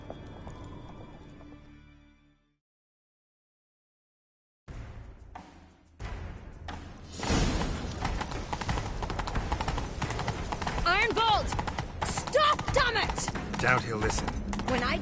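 Horse hooves gallop in The Witcher 3, a steady clip-clop rhythm that starts after a short silence and grows busier and louder against other game sounds.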